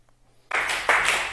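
Members of a Hong Kong Fo Guang Buddhist youth group clap together at their annual gathering: after a moment of quiet, two loud bursts of group clapping follow close together.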